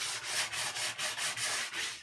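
Wood being hand sanded during a narrowboat fit-out after belt sanding, a steady rhythmic back-and-forth scratching of about nine quick strokes, close and fairly quiet, with no voices.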